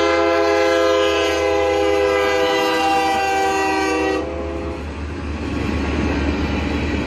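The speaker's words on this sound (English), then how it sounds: "It's a really short train, but that's cool though." A short Union Pacific train rolls past with its horn sounding loud and sustained, then the horn cuts off and the rumble of the passing cars carries on alone.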